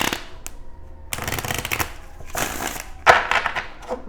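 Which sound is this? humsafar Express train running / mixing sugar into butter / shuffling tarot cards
shuffling tarot cards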